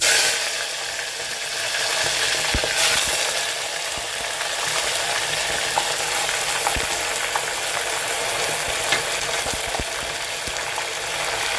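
Half a kilo of washed chicken pieces frying in hot oil for an arbi chicken curry, a steady dense sizzle throughout with occasional faint stirring clicks and no voices.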